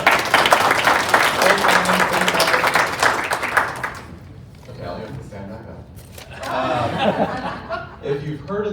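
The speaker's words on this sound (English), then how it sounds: "Round of applause" A conference audience applauds a Governor's Challenge team member, with loud clapping for about four seconds before it fades. Scattered laughter and talk follow.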